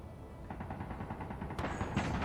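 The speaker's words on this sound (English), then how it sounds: "there's definitely gunfire now" Gunfire in Space Engineers comes as a faint, muffled rapid series of shots at a distance, under steady background game noise, with a few sharper cracks toward the end.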